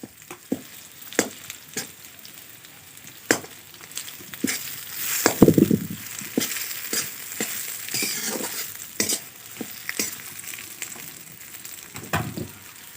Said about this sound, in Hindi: आलू को भी फ्राई करना है थोड़ा थोड़ा तेल में